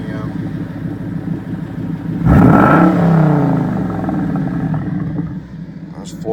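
A Ford Boss 302 V8 with a factory restrictor plate, just after a cold start, rises from a loud idle into a sharp rev that swells and then slowly settles back down, close and loud.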